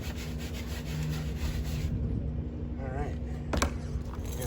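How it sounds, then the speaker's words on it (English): Stiff brush scrubbing a car wheel and tire to loosen stuck sand, a close, continuous rasping rub that eases partway through, ending with a sharp scrape, with a voice talking over it. "a stiff brush does a great job at loosening"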